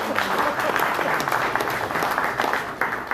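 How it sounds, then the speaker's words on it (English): A radio club meeting audience gives a dense, sustained round of applause, continuous and fairly loud in an indoor room. "I'll give her an applause"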